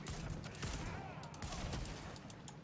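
Rapid gunfire bursts from the video game The Division crackle steadily through the whole stretch, dense and fairly loud, with faint talk mixed in underneath.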